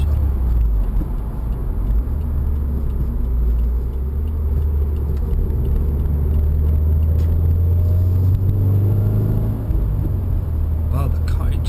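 A 2016 Subaru WRX with a Cobb Access Port tune drives with a deep, steady engine rumble, loud and close throughout, with a voice briefly audible over it.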